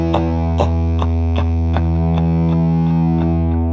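An electric guitar set to a signature-style tone picks a quick run of distinct notes with heavy echo and reverb, each attack ringing into a smooth, sustained wash. The playing is loud and close, with no voices.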